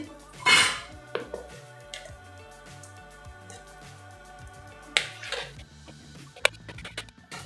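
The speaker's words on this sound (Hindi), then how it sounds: "चलिए ग्राइंडिंग जार लेंगे, उसमें आम डाल देंगे।" Cut mango pieces dropped into a grinder jar, producing a few sharp clinks and clatters of fruit and utensil against the jar, close and distinct over quiet kitchen background with soft music.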